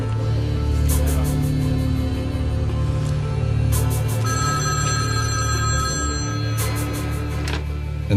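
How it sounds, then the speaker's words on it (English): A telephone bell rings in repeated bursts, loud and close, with steady tonal hum between the rings and no speech. "And now Jacques' phone rings."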